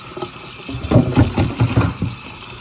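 Tap water runs into a pot of rice being washed by hand, a steady splashing stream with rhythmic sloshing and swirling pulses as the grains are stirred.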